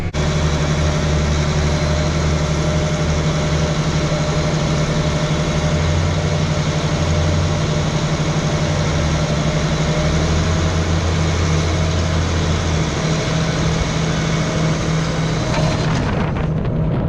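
A tractor pulls a stack fold corn planter at 4.8 mph, its engine holding a steady, close, droning hum throughout with no talking.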